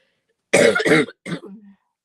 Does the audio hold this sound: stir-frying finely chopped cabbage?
no